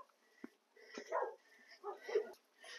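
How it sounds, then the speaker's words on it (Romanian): A dog makes short soft barks and yips indoors, interspersed with whimpering and sniffing sounds, quiet and intermittent across the moment. "Domnișoara Agripina, cățelul pe care îl mângâiam cu mânuța de lemn, că nici nu ne puteam apropia de ea"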